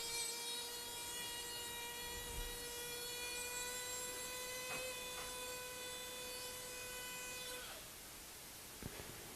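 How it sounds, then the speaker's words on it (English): A high-speed surgical drill cutting bone during sinus surgery on a cadaver, a steady high-pitched whine held for several seconds before dropping away, faint with a few light clicks. "It's the beautiful part about having high-speed drills."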